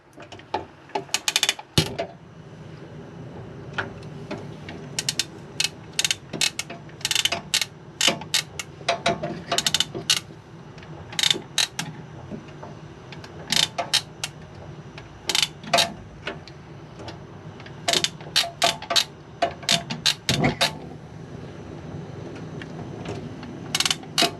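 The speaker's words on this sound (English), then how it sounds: "you'll need a lighter to ignite the 3 burners" A hand lighter is used to light the three gas hob burners in a Chausson Flash 14 caravan. Its sharp clicks and small ticks come in irregular bursts, close by and fairly quiet, with no talking.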